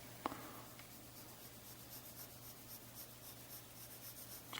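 Soft pencil drawing on paper during a descriptive geometry shading exercise, a steady faint scratchy rubbing with a slightly sharper stroke near the start, alone without talk.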